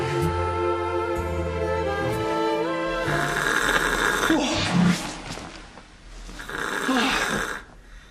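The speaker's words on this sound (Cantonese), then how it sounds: "我早過你瞓，都俾你啲鼻鼾嘈醒啊！" Loud, heavy snoring from a sleeping person in a bedroom, drawn-out rasping breaths repeating through the scene with other indoor sounds around them.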